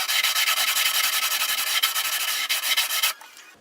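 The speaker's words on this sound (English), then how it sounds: "level it a little bit with a sanding block" Sanding block rubbed back and forth over a worn rosewood guitar fretboard on a Gibson J50, a dense rapid rasping scrape that continues steadily for about three seconds and then stops abruptly, close and loud.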